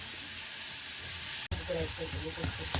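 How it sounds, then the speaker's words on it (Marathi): Green tomatoes and chilies roasting at home for a village-style chutney, a continuous close sizzle and crackle with a sharp knock midway, followed by scattered pops and faint voices under the sizzle. "तिकडं आमचे टमाटे आणि मिरच्या भाजत आहे"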